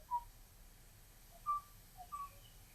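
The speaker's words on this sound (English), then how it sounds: "This is a song recording of a male oo singing on Kauai." Male Kauai oo bird singing on Kauai, three faint, well-spaced, flute-like whistled notes over a quiet background with no reply.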